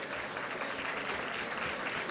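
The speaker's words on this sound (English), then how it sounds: "Can we give her a round of applause, please?" An audience at a black women attorneys' gala dinner applauds the flutist who played during the meal, a steady, dense wash of clapping from many hands filling the whole stretch.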